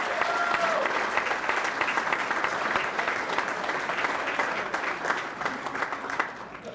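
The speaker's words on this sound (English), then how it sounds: "You can give them all a round of applause." Steady round of applause for bowlers at a county bowling hall of fame ceremony, dense clapping from a crowd indoors, even and sustained before easing slightly at the end.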